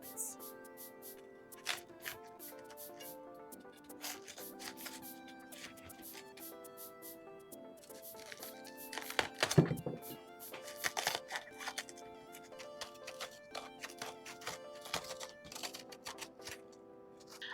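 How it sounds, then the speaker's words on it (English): A knife cuts and digs the core out of a raw cabbage, giving quiet, crisp crackling and snapping crunches in scattered bursts, with a denser cluster of sharper cracks midway through. "I'm going to cut off the bottom of the cabbage"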